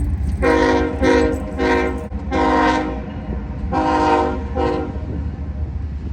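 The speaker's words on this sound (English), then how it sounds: "my ear detected the telltale sound of a train horn" A Norfolk Southern freight train sounds its horn in a loud, close sequence of long and short blasts over a steady rumble of rolling cars, with no voices.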